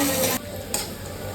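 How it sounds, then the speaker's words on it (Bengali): Onions fry in a pan for a Bengali river fish dish, heard as a brief burst of sizzling with a quick stir-scrape partway through. "এই তো আমার পেঁয়াজ কত সুন্দর ভাজা হয়ে গেছে।"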